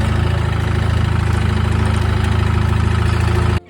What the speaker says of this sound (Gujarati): આ ટ્રેક્ટર ની પાછળ કલ્ટિવેટર જોડાવી દીધું છે અને હવે આપણે ચલાવવાનું છે.